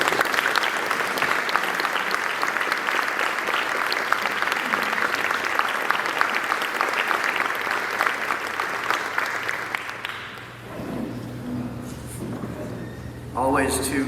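Audience applause welcoming the mayor at a State of the City 2023 address, dense and steady clapping from a large crowd that fades out near the end as a voice begins speaking.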